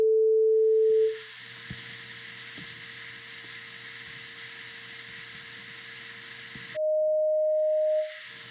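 A steady 440 Hz sine tone plays alone, clear and constant, breaks off for several seconds under a faint hiss with light clicks, then returns briefly.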